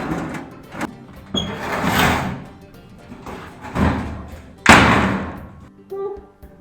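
A desk drawer side drops down while a drawer is taken apart to build a standing desk, giving several dull thumps and clattering knocks over about six seconds with a sharp louder clunk near the end.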